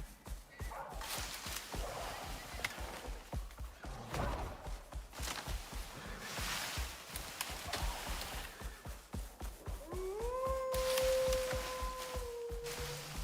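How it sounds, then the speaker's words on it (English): An animal howls and whines in the Icarus survival game on a hard-mode open-world map, with footsteps and ambient game sound throughout and a rising, sustained wail near the end. "You keep howling."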